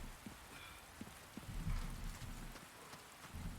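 Rain falls in the Resident Evil 4 remake (2023), a steady hiss of drops with low rumbling swells and a few soft thuds, fairly quiet and continuous throughout.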